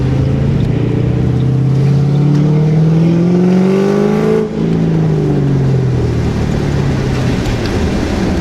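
A stock 3V Ford Mustang engine and exhaust roars loudly and steadily, its pitch climbing then dipping briefly before settling into a sustained, close drone.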